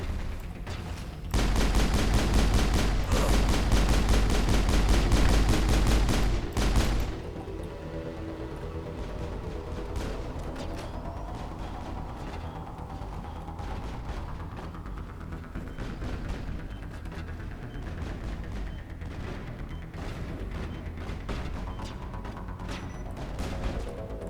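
Gunfire in the video game Mass Effect, a rapid, loud stream of automatic shots for several seconds, then a quieter stretch of rumbling ambience and faint scattered game sounds.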